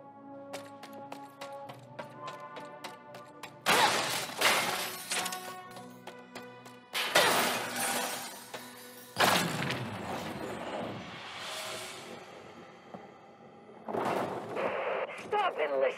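Glass shattering in the video game Ratchet & Clank: Rift Apart on Blizar Prime, several loud bursts of breaking and crashing debris over ringing musical tones, repeating in separate impacts.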